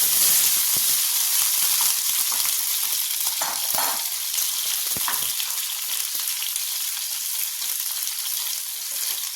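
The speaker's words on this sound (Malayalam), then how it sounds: "കൊച്ചുള്ളി ഒന്ന് ബ്രൗൺ കളർ ആവുന്ന വരെ ഒന്ന് വഴറ്റി കൊടുക്കാം" About a dozen small shallots and five garlic cloves sauté in hot oil, giving a loud, steady sizzle close by, broken by a few soft stirring knocks and no speech.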